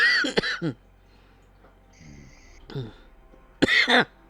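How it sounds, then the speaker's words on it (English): Several harsh coughs from a nearby person, a short burst at the start, a weaker one in the middle, and a loud fit at the end. "Be careful coughing like that."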